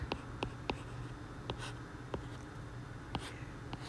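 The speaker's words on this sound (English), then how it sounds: "Write the a on the left." A pen scratches across a page, working through a literal equation by hand, with short repeated strokes and taps close by over a steady low hum.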